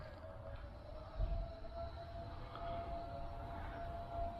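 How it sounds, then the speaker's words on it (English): Faint, distant shift siren from Newport News Shipbuilding holds one steady sustained tone over quiet outdoor background, with a brief low thump partway through. "The siren you hear in the background is a shift end or lunch end or begin to Newport News Shipbuilding"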